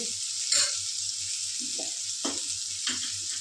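Large sliced onions, two green chillies and curry leaves sautéing in a pan, a bright steady sizzle with a few spatula scrapes and a low rhythmic hum beneath, close and moderate, no speech.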